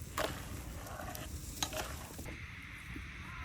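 Brinjal (eggplant) slices seasoned with turmeric and salt frying in a pan, a steady soft sizzle with a few brief clinks or stirring knocks, close by and fairly quiet, no voices.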